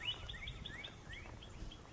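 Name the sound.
birds singing in the morning at a campground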